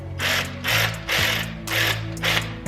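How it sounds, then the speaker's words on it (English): Ratchet wrench tightening cylinder head bolts on a BMW E46 during a head gasket job, heard as five loud bursts of rapid clicking pawl ratchet strokes, each about a third of a second long, close by with no talk. "So let me go ahead and start tightening."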